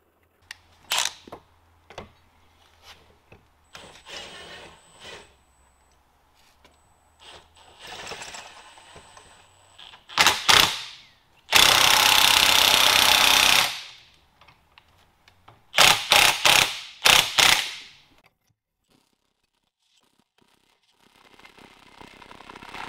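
Old U-joints being pressed out of a truck driveshaft in a garage, with scattered metallic clicks and knocks, then a long loud hissing burst and a cluster of sharp bangs, quieter shuffling between.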